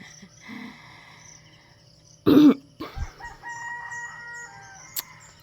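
A chicken lets out a loud crow-like squawk, followed by a few softer clucks, with chirping birds and a faint tone in the background.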